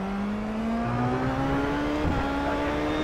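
A V8 race car engine in the iRacing simulator, revving hard in a steady rising whine with a slight dip and recovery midway, loud and close, no voices heard.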